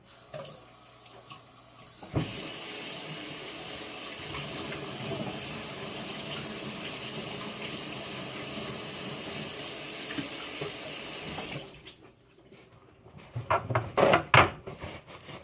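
Kitchen tap running as hands are washed, a steady close hiss of water into a sink that switches on, flows for about nine seconds, then stops, followed by a few splashes and clatters.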